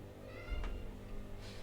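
A house cat meows once, faint and close indoors, a short soft cry over a low room hum.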